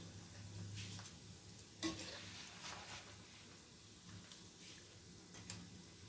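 Avalakki (flattened rice) fries in hot oil with a steady close sizzle and crackle, punctuated by two sharp clinks of a metal slotted spoon against the pan, and no talking.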